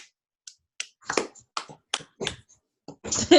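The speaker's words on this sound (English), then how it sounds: "My son's clapping" A child claps at home during an online group session: about eight sharp, separate handclaps, close by and unevenly spaced, with short silences between them and no talking.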